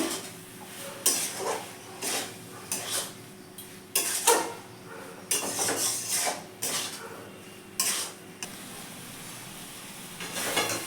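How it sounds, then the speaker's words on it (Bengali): A spoon stirs and scrapes prawn and banana flower curry with ghee in a pan, making a series of about a dozen rhythmic, close scraping strokes over a steady low sizzle. "দিচ্ছি ঘি ভালো করে এগুলোকে মিশিয়ে নেবো"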